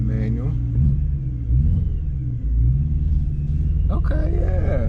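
A Dinan stroker E92 BMW M3 engine accelerating, with a deep, loud rumble that rises in pitch, heard from inside the car under people talking.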